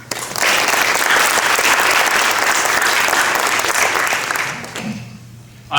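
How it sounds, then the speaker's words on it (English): A lecture-hall audience applauds loudly and steadily for several seconds, the dense clapping tapering off near the end. "We give a round of applause."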